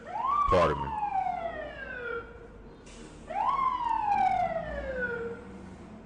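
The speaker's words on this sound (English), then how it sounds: "Yeah, it sounds like a fire truck." Fire truck siren passing by, two long descending wails sweeping loud and close, then fading, with traffic rumble beneath and a brief spoken phrase.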